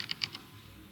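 Three quick, light keystrokes on a computer keyboard, close and faint, then quiet.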